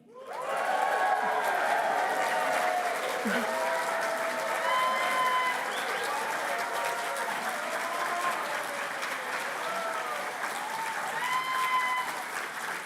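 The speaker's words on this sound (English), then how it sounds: "let's all give a big cheer for the graduating class of 2026" A graduation audience at the Staffordshire Games Institute bursts into loud, sustained applause and cheering for the graduating class, with whoops and shouted voices riding over dense clapping that stays steady to the end.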